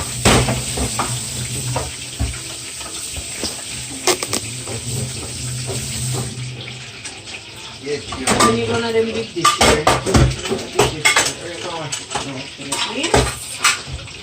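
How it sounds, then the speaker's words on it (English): Dishes are washed in a home kitchen: plates, pots and cutlery clatter and clink in irregular bursts over running water, with a sizzle-like hiss and occasional talk in the background. "done washing the dishes"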